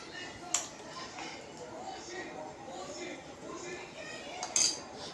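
A spoon adds Kashmiri chili powder to a spice mix for gunda pickle, with two sharp, close metallic clinks at either end and a soft, steady hiss between.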